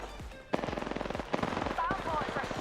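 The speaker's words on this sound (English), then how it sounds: "Bad boys are shooting at me." Rapid automatic gunfire from Apex Legends, loud bursts of rhythmic shots in quick succession with a sharp onset partway through, layered with other game effects.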